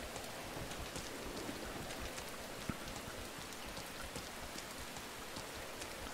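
Rain falling in the video game rain: steady, even rainfall with scattered drops pattering on a surface, continuous throughout and heard alone.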